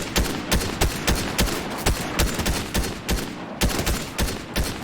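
Ranger assault rifle fired in Fortnite, sharp shots repeating at a steady rhythm of roughly two to three per second, close and loud with no talk.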